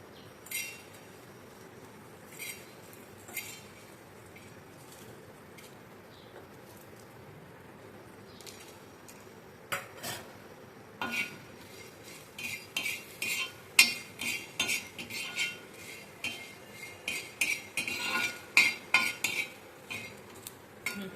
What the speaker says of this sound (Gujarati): લવિંગ, આખા મરી, તજપત્તા અને એલચી એટલું આપણે શેકી લઈશું.